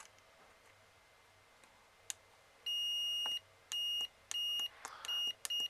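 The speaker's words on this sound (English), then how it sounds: "So this button, when I press it down, it beeps." The control box of a Carrier RV air conditioner gives several short electronic beeps as its button is pressed, sharp and repeated in quick succession with faint clicks between them.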